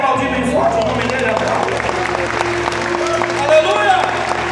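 A church congregation claps loudly and steadily, a dense wash of applause that fills the room while a preacher's amplified voice carries over it.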